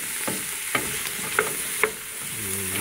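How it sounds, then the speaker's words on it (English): Chopped vegetables sauté in olive oil in a pot for chicken kale soup: a continuous soft sizzle broken by several sharp spoon-against-pan clacks from stirring. "Now we are gonna go ahead and saute this down until everything becomes translucent or"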